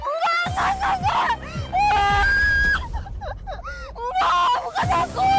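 A woman screams and wails in distress at night, loud, close and sustained, with several drawn-out cries separated by short breaks.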